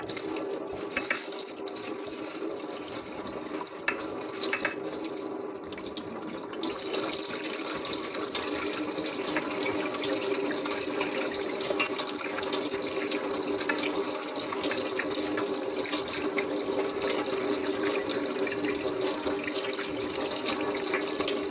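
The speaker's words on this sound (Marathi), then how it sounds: "त्याच चाळणीमध्ये मी पोहे स्वच्छ धुवून घेणार आहे" Tap water pours steadily into a sieve of poha (flattened rice) being rinsed at a kitchen sink, a continuous splashing rush that grows a little louder partway through, with no talking.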